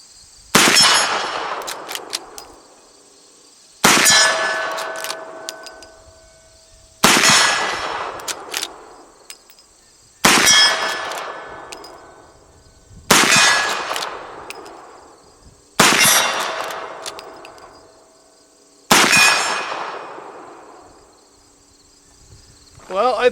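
.44-40 gunshots ringing off steel targets, seven sharp reports spaced a few seconds apart, each followed by a bright metallic clang that decays slowly, loud and close.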